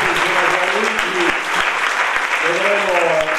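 Steady, dense audience clapping at a 2018 theatre festival awards ceremony in Rotonda, with a voice talking faintly underneath.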